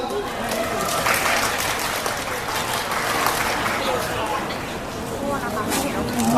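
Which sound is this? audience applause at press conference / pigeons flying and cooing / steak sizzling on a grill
audience applause at press conference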